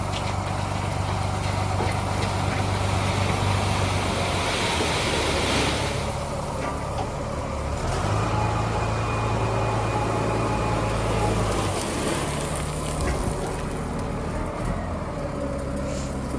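A dumper's engine rumbles loudly and continuously as the load is tipped, with a low idling drone and periodic strain as the skip lifts.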